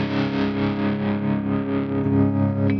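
Electric guitar run through a TC Electronic Plethora X3 pedal board with compressor and echo engaged, playing a dense, sustained distorted tone that rings steadily and loudly for the whole stretch, alone without any voice.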